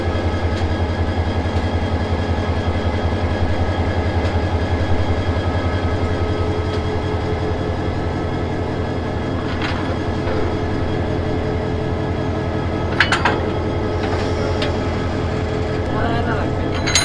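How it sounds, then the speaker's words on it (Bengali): A diesel locomotive idles with a steady low throb beside train coaches being coupled, a few metallic clanks and knocks ringing out near the end over the constant engine hum. "লোকোমোটিভের সাথে বডি জয়েন করা শেষ"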